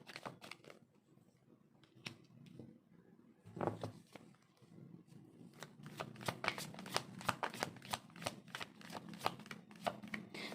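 Tarot cards being shuffled up close, with quiet riffles early and then rapid, crisp flicks ramping up in a steady rhythm.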